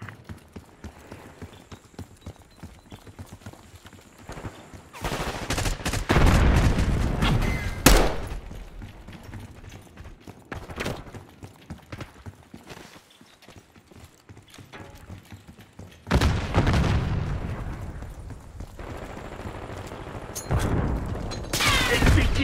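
Call of Duty Black Ops 6 firefight with gunfire bursting in loud clusters over a steady background of game noise and mechanical clatter, with quieter stretches between the heavier volleys.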